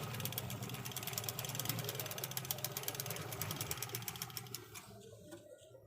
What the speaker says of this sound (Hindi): वो देखते हैं कि ये डबल धागे से उस पर सिलाई लगाती है कि नहीं।